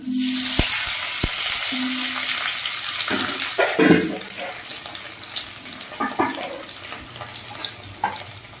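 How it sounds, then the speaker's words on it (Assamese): Boiled potatoes fry in a little oil with bay leaf and dried red chillies, giving a loud, steady hiss with a couple of sharp metallic clinks early and scraping stirs later on. "আলুখিনি যেহেতু ভাজি আছোঁ"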